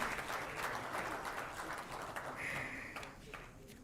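Applause from an audience at a technology event at IIT Madras, a dense spread of clapping that holds steady for a few seconds before easing off.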